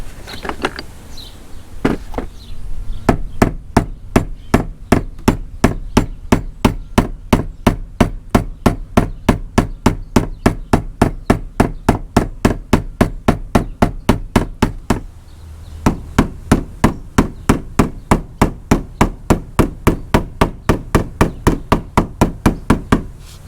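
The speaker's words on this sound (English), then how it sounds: "I'm gonna grab a body hammer and knock those push outs down" A body hammer strikes a car's sheet-metal cab corner in a long, steady series of sharp, loud knocks, evenly spaced and close, with a short pause midway before the blows resume.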